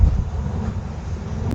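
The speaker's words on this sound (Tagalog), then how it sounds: "Ang lakas ng hangin." Strong wind at sea on a fishing trip in suddenly rough weather roars hard against the microphone, a loud, unbroken low rumble with no talking.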